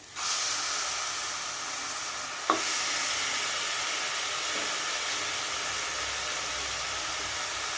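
Half a kilo of mutton fries in masala, a steady close sizzle and hiss with a single clank of a spoon against the pan partway through, no voices.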